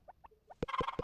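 Chickens on a farm in the Harvest Moon: Back to Nature video game cluck at night: a few soft, short calls, then three louder, sharper clucks in quick succession, close and clear with no talk.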